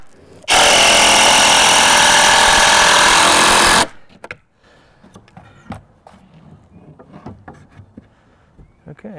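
A cordless battery drill, used while framing a chicken coop, runs loud and steady for about three seconds, then stops, leaving quieter scattered handling clatter.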